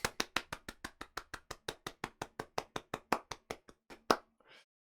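Applause for a speaker at an online JavaScript conference comes as steady clapping from a single pair of hands, about twenty crisp, evenly spaced claps close to the mic that stop abruptly, followed by a brief rustle.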